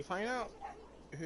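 Dogs barking and yipping in Assassin's Creed Valhalla, a short burst of excited dog calls up front that gives way to a voice talking.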